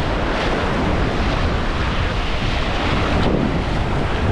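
Steady roar of surf and breaking waves at Sukko beach, Krasnodar Krai, with wind buffeting the microphone throughout; a slightly louder wash rises near the end.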